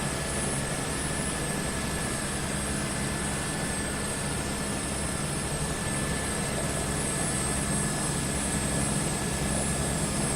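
Propeller engine of a Rans 6 light aircraft in Microsoft Flight Simulator 2024 drones at a steady, even pitch throughout, loud and continuous with a faint high whine.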